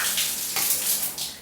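Water gushes from a homemade shower head made from a cheap plastic chair hung upside down and piped from a faucet, a close, continuous splashing spray with surging bursts.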